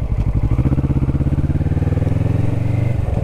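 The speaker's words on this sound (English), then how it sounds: "He's stalled the bike." A Kawasaki Vulcan S motorcycle engine runs loud and close in a steady, throbbing idle, its rapid even pulses continuing without a break and with no voices.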